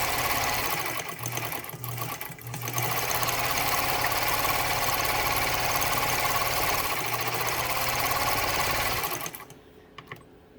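A Pfaff 230 sewing machine runs steadily on a widened zigzag stitch, its rapid mechanical chatter loud and continuous for most of the stretch with a brief slowdown early on, then stopping abruptly near the end.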